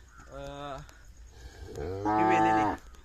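Two drawn-out Khillar cow moos, the first moderate and the second louder and longer, with a short pause between them.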